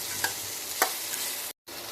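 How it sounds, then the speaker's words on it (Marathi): Vegetables sautéing in hot tempering oil, a steady close sizzle with a couple of brief stirring scrapes, broken by a short moment of silence near the end. "2 मिनिटं भाज्या मी फोडणीमध्ये परतून घेतलेल्या आहेत"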